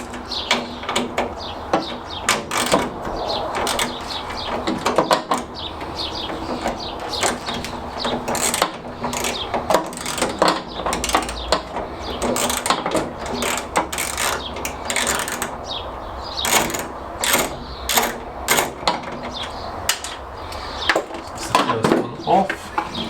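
Bonnet fasteners being unscrewed on a classic Fiat 500, with close, irregular metallic clicks, ratcheting and scraping of tools against the hinge, steady through the clip with brief clanks.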